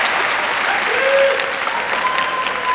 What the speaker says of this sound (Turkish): sizlerden kuvvetli bir şekilde hafızlarımızı alkışlamanızı istiyorum